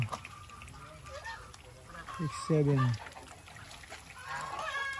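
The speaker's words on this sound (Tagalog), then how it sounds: "Ayun yung gansa, nag-enjoy sa papaligo." A goose lets out a few loud nasal honks near the middle, close by, amid other birds calling and a person talking quietly.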